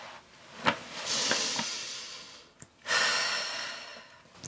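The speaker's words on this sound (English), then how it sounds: "Exercise and breathing for mums to be." A woman doing a breathing exercise for expectant mothers: a sharp inhale, then a long audible exhale, a brief catch, then another long breathy exhale, close and alone.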